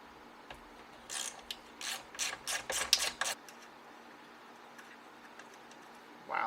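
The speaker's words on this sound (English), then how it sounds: "locate your 10 mil and get these off of here" A ratchet with a 10 mm socket backs bolts off a Jeep Wrangler, a quick series of sharp clicking bursts in a row, fairly close, then quiet.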